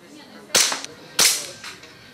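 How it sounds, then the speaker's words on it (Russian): Two sharp air pistol shots in a practical shooting session, cracking about half a second apart, close and loud, followed by faint echoes or target hits, with no talk. "заниматься практической стрельбой с пневматического пистолета"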